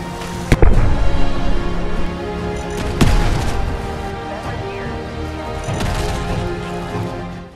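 Dozens of frag mines in Fallout 4 go off in a chain, with several sharp explosive cracks followed by rumbling bursts and debris rattle, loud and close, with scattered smaller pops in between.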